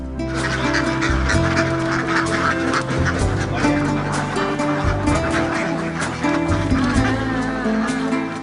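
A crowd of farmed ducks in the Chalan Beel area quacks continuously and loudly, overlapping calls forming a dense, busy chorus with no pauses.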